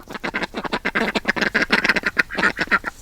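Indian runner ducks quacking rapidly in a busy chorus, many loud close calls overlapping in quick succession.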